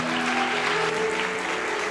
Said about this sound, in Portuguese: Glória a Deus, vamos aplaudir ao Senhor.